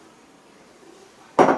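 Soaked dates are dropped into a blender, a sudden clattering knock against the hard jar after near silence, loud and brief.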